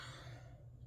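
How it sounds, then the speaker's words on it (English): A single short cough from a narrator during a tarot-style reading, close and fairly quiet, with a low steady hum underneath and no speech. "I had to cough."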